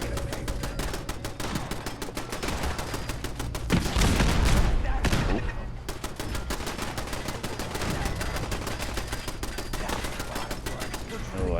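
Video game turrets firing in long, rapid bursts, a steady close mechanical rattle of shots that swells into a louder burst midway, with a voice talking over it.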